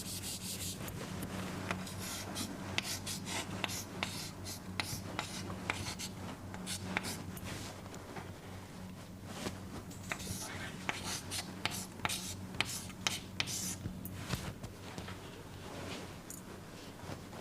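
Continuous scratchy pen or chalk strokes of an equation being written by hand, close and steady with frequent short rubbing bursts over a low background hum.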